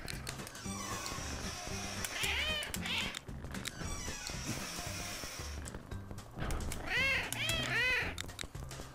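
Several cats meowing in the cat-herding game CatNab, repeated short meows in bursts over looping game music, fairly close and clear.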